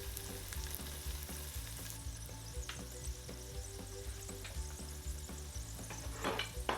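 A scallion pancake fries in a pan with a soft, steady sizzle, crackling in small pops and faint ticks throughout, fairly quiet and close with no voices.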